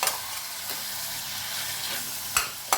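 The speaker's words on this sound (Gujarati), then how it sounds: "બે મિનિટ આપણે એને એકલા તેલમાં જ આવી રીતે સોતે કરીશું" Val beans sautéing with masala in hot oil make a dense, continuous close sizzle, broken by a couple of sharp scrapes of a spoon against the pan.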